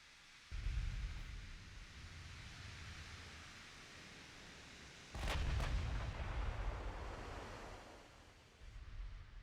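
Battleship artillery fires in a naval combat game set in a war against America, heavy booming blasts that roll into long rumbling noise, with a sharp report midway and another salvo at the end.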